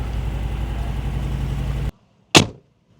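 A Mercedes G63 4x4 squared idles with a loud, steady low rumble that cuts off abruptly, followed by a single sharp bang or pop.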